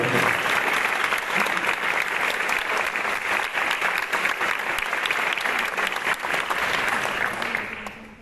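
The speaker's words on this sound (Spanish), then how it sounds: "les agradecemos y les brindamos un aplauso." A crowd of attendees at an International Nursing Day event gives sustained, dense applause with steady clapping throughout, which thins out only at the very end.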